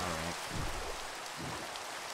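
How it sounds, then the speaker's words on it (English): Steady rain falling in the Minecraft video game, a continuous soft hiss of drops heard alone with no talk. "Oh, good, it started raining."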